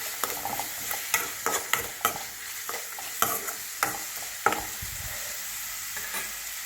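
Ginger and garlic stir-fry in hot oil for a seafood dish with a close, continuous sizzle, broken by repeated sharp scrapes and clacks of a spatula stirring in the pan.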